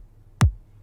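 A low boom kick drum sample from a K-pop trap pop beat hits once, loud and punchy, its deep tail sliding down in pitch before fading out.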